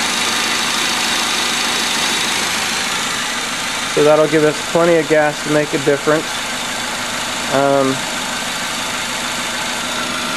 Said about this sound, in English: This is a 2-liter engine